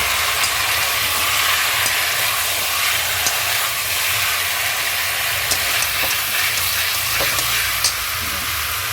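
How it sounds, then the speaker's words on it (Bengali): Mutton curry with added salt is stir-fried in a pan, producing a loud, continuous broad hiss and sizzle with faint clinks throughout, close up and with no talking. "পরিমাণ মতো লবণটা দিচ্ছি, আবার কষিয়ে নিলাম।"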